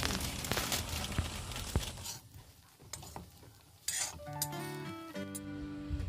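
Roughly torn bread pieces fry in a pan for egg chop, with close clatter of a utensil stirring against the pan and a light sizzle underneath, then a short clink and a tonal background near the end.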